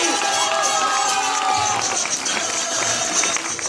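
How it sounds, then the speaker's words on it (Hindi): A convocation crowd applauding and cheering for the next speaker, a dense, loud, continuous roar of clapping and voices with a few whistles, sustained without a break. "A mountainous round of applause for our next speaker"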